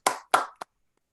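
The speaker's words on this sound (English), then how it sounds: "So let's give a big round of applause to Jessica." Brief applause at a virtual rally for a student member of the Oakland Unified School District: two short bursts of clapping, then a single final clap before silence.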